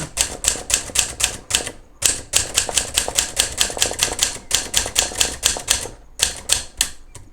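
An Adler Contessa De Luxe typewriter is typed on at close range, with steady, rapid, crisp key strikes broken by a few short pauses.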